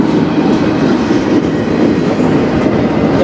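CN freight train M301 rolling past in Sarnia, Ontario, a loud, steady rumble of wagons with rhythmic clickety-clack of wheels on rail joints, close and continuous throughout.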